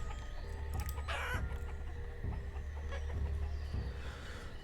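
Chickens clucking in the game Banished, soft intermittent clucks and calls over a steady low farm ambience, fairly faint and with no talking.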